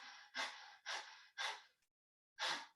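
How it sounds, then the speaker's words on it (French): Breath of fire during a yoga class: four forceful, sharp breaths through the nose, three in a steady rhythm, then a pause and one more, close and clear with no talking. "Donc, respiration du feu."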